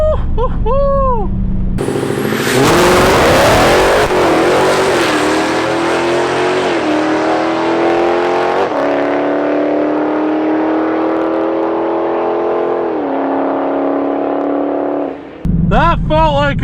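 A Dodge Challenger Hellcat launches and accelerates hard down a drag strip, its loud engine note rising steadily through the gears for over ten seconds before cutting off, with voices briefly heard at the start and end.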